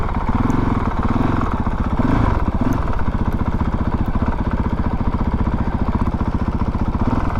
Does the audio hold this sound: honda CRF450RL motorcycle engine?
yes